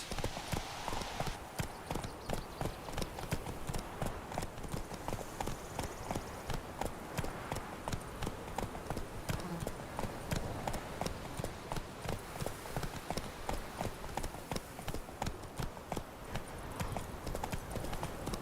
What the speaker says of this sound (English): Whoa there, Roach. Move it